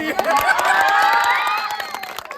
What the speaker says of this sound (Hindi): लिया ताली।